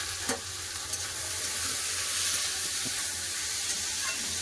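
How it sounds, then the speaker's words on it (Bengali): Continuous close sizzling and hissing of potatoes and bitter gourd with turmeric and salt frying in oil, with a few brief utensil taps against the pan. "ভালো করে এবার ভেজে নেব"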